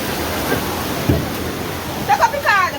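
Floodwater rushes in a steady, loud roar during a flash flood in Jamaica, a broad continuous wash with a thump near the middle as people cry out over it.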